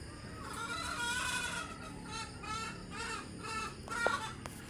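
Chickens clucking and calling repeatedly at moderate distance, a steady run of fowl vocalizations with a brief sharper cry near the end.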